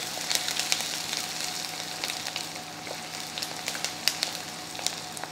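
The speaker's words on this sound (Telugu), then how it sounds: "చక్కగా ఫ్రై అవ్వనివ్వండి మష్రూమ్స్ని." Mushrooms fry with onions in an Indus Valley kadai, giving a continuous, moderately loud sizzle with frequent small pops and crackles throughout.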